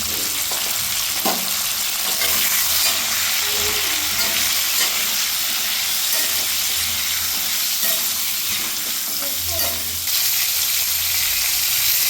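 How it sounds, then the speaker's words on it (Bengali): Pointed gourd (potol) fries with salt and turmeric in a pan, giving a steady, loud, unbroken sizzle with light stirring scrapes and no talk. "সমান পরিমাণে লবণ দিয়ে দিলাম আর সমান পরিমাণ হলুদ দিয়ে দিলাম"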